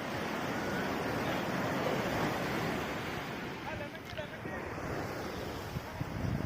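Sea waves break and wash steadily onto the sand at Puri beach in Odisha, a continuous roaring surf with wind buffeting the microphone throughout.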